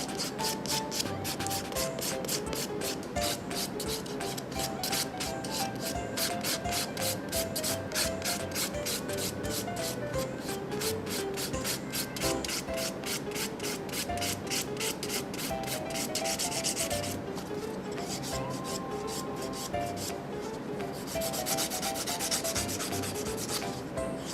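Acrylic nail extensions are filed down during a three-week fill-in, a fast, even rhythm of close, dry rasping strokes repeating continuously, with a brief change in texture partway through.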